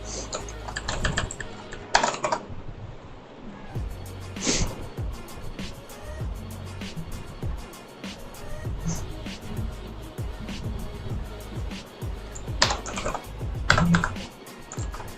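Typing on a computer keyboard while writing ReactJS code, with irregular runs of clacking keystrokes and a few louder key hits.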